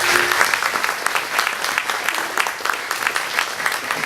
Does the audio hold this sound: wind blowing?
no